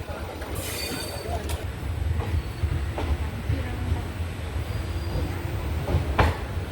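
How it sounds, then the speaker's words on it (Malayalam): The Ernakulam Velankanni Express, hauled by a WAG9 locomotive, stands at a station platform. A continuous rumble runs throughout, with faint metallic squeals, a few clanks and a sharp click near the end. "ഞാനിവിടെ തിരിച്ച് കൊല്ലത്തോട്ട് പോകുന്നത് എറണാകുളം വേളാങ്കണ്ണി എക്സ്പ്രസ്സിനാണ്."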